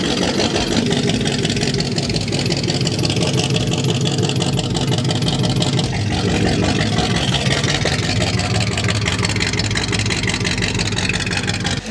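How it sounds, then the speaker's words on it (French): An American car engine idles through a Cherry Bomb glass pack muffler, a loud, continuous, throbbing low rumble that holds steady throughout, close to the exhaust with no talking. "Le Cherry Bomb Glass Pack, en fait, c'est un silencieux que tu mets sur ta ligne d'échappement"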